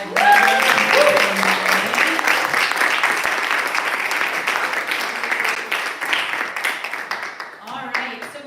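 Audience at a poetry reading night applauds the five readers, a dense sustained round of clapping that holds steady for several seconds, with a voice speaking briefly over it at the start and again near the end.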